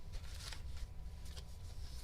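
Tarot cards being shuffled by hand, a steady run of soft riffling and flicking with a few louder bursts, close and continuous with no talking.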